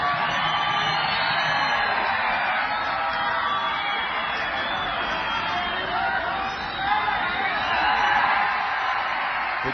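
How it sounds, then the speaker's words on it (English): Big crowd at a World Games bronze medal match cheering and whooping continuously, a broad sustained roar of many voices with scattered yells. "Big crowd."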